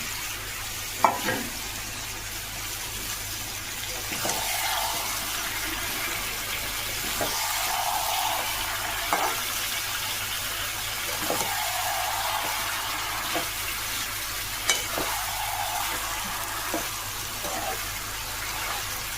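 Chicken tossed with previously fried ingredients in a pan, a moderate steady sizzle with occasional spatula scrapes and clinks spaced a few seconds apart, close by and with no speech.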